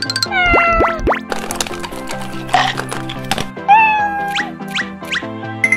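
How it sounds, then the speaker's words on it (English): A kitten mewing in a game-like setting, several rising high-pitched calls heard clearly over a busy backdrop of music and sound effects, with a few quick cries early and more around the middle and end. "Oh, hello kitten."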